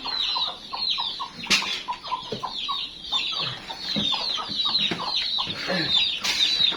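Chickens in a coop cluck busily and close by, with overlapping short calls and squawks, a few sharp rustles and flaps, and no talking.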